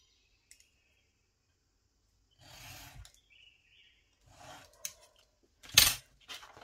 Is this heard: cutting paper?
yes